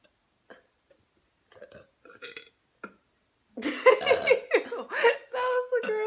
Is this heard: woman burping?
yes